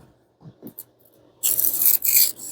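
A knife on a rolling diamond-disc sharpener gives a few faint scrapes, then loud, bright grinding rasps in two bursts.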